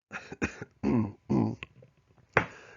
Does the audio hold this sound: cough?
yes